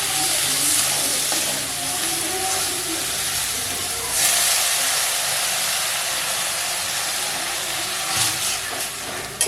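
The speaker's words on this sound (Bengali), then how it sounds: "এবার আমি এতে জল দিয়ে দেবো।" Water hitting okra frying with ground spices bursts into a loud, steady steam hiss and sizzle close by, swelling briefly a couple of times over nearly ten seconds.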